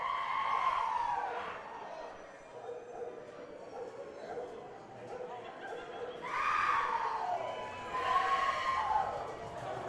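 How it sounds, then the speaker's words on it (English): Crowd screaming and cheering at an All Pro Wrestling event in a gym in Concord, California, a loud continuous roar that surges in several waves. "and I hear some tribal screams."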